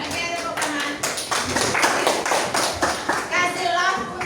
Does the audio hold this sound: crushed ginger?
no